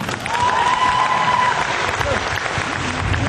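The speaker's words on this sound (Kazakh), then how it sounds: "Техас КВН командасына тағы да ду қол шапалақ" Sustained applause from a KVN comedy contest audience, dense steady clapping throughout at a strong level, with a brief whistle-like tone early on.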